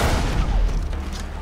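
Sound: explosion in the video game Far Cry 3

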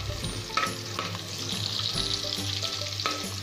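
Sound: garlic and onion sautéing in a pan

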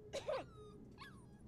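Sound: dog whimpering in the video game Life is Strange 2

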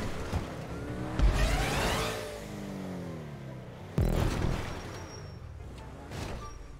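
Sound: Porsche car driving in GTA 5 Online video game

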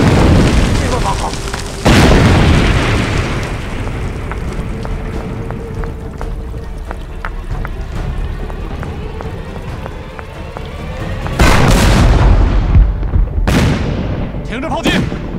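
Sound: artillery bombardment in a war film

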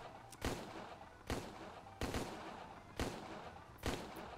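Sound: gunfire in the video game Empire of Sin

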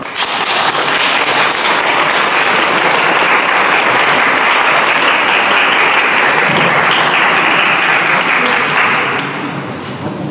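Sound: applause at a school anniversary celebration

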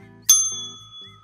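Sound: beer bell ringing

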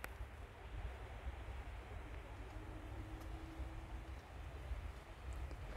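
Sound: Wah-Kaba waterfall in Meghalaya

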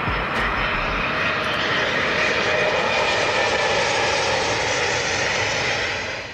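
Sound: Embraer E195-E2 regional passenger jet engines

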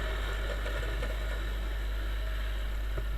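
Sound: Chinese motorcycle accelerating

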